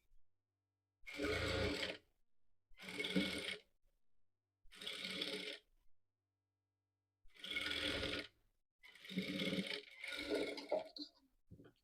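A sewing machine stitches cloth piping in six short, quiet bursts of whirring, each roughly a second long, separated by silent pauses.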